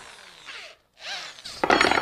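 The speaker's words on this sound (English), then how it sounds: "I'm going to take a long drill bit and I'm going to get a center mark" A power drill with a long drill bit whirs in short bursts, pausing briefly, then grinding harder into wood with a louder, rougher spin at the end.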